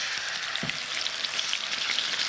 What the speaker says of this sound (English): I always love the sizzle.